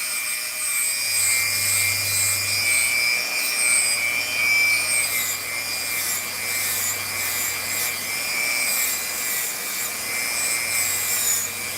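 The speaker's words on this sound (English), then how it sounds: "I changed the nylon wheel to one of the highest grits it has." A rotary nylon abrasive wheel fitted with a high grit scrubs a surface in a steady continuous whir with a gritty rubbing texture, unbroken for the whole stretch and heard alone.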